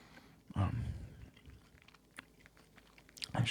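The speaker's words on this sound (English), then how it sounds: "start chewing on it a little bit" Close, crunchy chewing of a breath mint, with a loud bite and crunch at the start, softer mastication through the middle, and a second crisp crunch near the end, all without speech.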